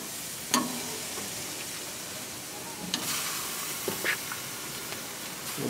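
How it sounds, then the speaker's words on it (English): Pork searing in a hot pan, a steady close sizzle and hiss running throughout, with a few brief stirring scrapes and clatters over it, no talk. "I just want to get a good sear on this meat."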